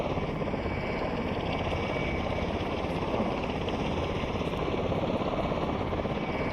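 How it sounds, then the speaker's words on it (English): A V-22 Osprey tiltrotor lifts off vertically in a flight simulator game, giving a continuous, loud, rotor-driven roar with a steady rhythmic chop throughout and no talking. "So that is the vertical takeoff"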